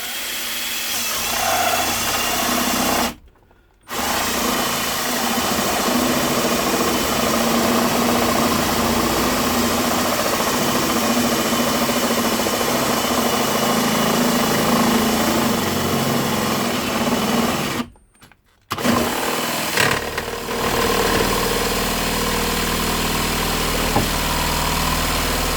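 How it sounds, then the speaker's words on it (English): A power drill bores a 20mm hole for a heated seat switch in a camper van, running with a steady whining drone for long stretches, broken by two brief stops. "drill a 20mm hole so that the switch will fit"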